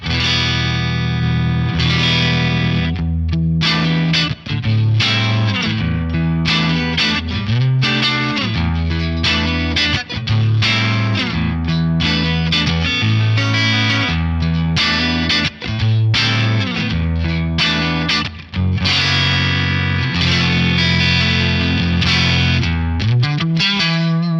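Electric guitar played through an Axe-Fx III with the SCD preamp engaged, giving a slightly gritty, lightly distorted tone with chorus-like shimmer; continuous loud strummed chords and riffs fill the whole stretch with no talking.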